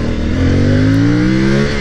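Kustom Kulture Tambike 450CL-C adventure motorcycle with a 450 engine revving loudly and close, pitch climbing steadily through a continuous throttle run with no talk.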